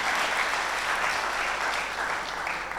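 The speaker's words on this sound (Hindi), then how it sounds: "पुनः ताली बजा के अभिनंदन" Audience applause at a scholarship distribution ceremony, a steady, dense wash of many hands clapping that holds at full strength for the whole stretch without a voice over it.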